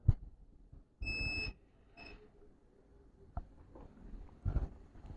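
A multimeter continuity tester gives a bright electronic beep once for about half a second, then a shorter fainter beep, amid quiet handling clicks and taps, while probing a laptop motherboard's shorted 19-volt power rail.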